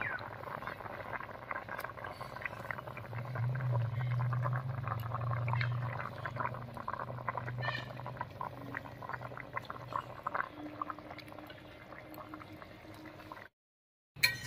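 Pieces of China puti fish go into a pan of simmering curry with potato and squash, bubbling and sizzling steadily at close range with low liquid churning throughout, no voices present.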